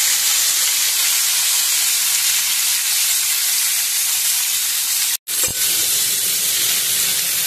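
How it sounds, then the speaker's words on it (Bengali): Morola fish frying in a pan with oil, a steady, loud, close sizzle that runs without a break, cut by a brief dropout of silence near the end before the hiss resumes. "মাছটা একটু ভেজে নেব।"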